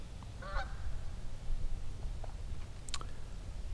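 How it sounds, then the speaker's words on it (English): Geese honking as they fly over a quiet campground, a few distant calls standing out over low rumbling background, one short honk series early and another near the end. "the geese flying over this morning"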